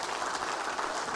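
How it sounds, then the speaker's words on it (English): A church congregation claps steadily at a Sunday service, a dense, even wash of applause filling the whole brief moment. "I think that deserves a clap, doesn't it?"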